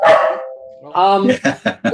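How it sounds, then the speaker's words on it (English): A dog barks several times nearby in short, loud bursts with a brief whine between them, sounding over a quiet room. "that's my dog barking"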